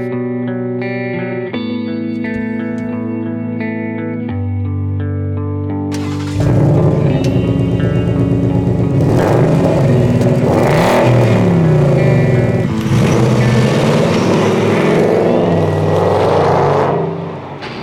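A Ford Mustang GT is driven at the Fort de la Tête de Chien, La Turbie: after several seconds of sustained musical tones, a loud, rough engine roar takes over, swelling and revving hard through acceleration before easing off.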